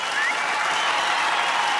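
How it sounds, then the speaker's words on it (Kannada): A studio audience at a Kannada comedy show bursts into loud, dense applause to welcome Huli Karthik and team, the clapping steady and close throughout. "ಬರ್ಲಿ ಜೋರಾದ ಚಪ್ಪಾಳೆ ಹುಲಿ ಕಾರ್ತಿಕ್ ಅಂಡ್ ಟೀಮ್ ಅವ್ರಿಗೆ."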